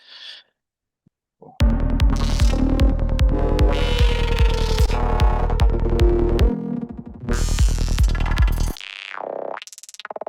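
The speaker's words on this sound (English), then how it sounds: "I believe for now we have enough kind of squelchy sounds" Squelchy darkpsy synth patch made in Serum 2, a pulsing driven bass pattern with resonant filter sweeps and gurgling modulation, stopping and restarting, ending in a warbling wobble; no voices.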